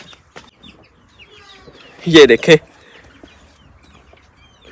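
A short burst of loud clucking from nearby chickens, with faint scattered farmyard sounds and a brief spoken remark around it.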